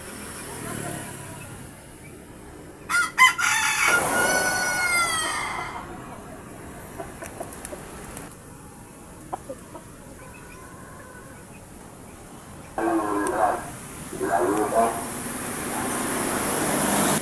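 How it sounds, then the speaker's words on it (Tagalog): A red junglefowl rooster crows loudly nearby, with a second crow later and scattered clucks, over a steady outdoor hum and faint background noise. "Ang ating nag-iisang manok labuyo."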